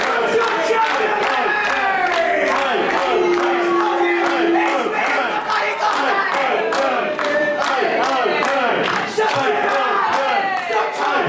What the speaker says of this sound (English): This crowd already firmly behind Ali Okay.